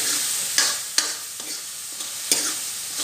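Onion, garlic, ginger and tomato masala fries in a pan, with a constant bright sizzle and a few sharp scrapes of a spoon as it is stirred.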